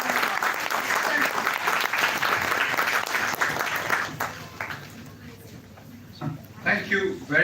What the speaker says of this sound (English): So please welcome Dr. Mathur with a warm round of applause.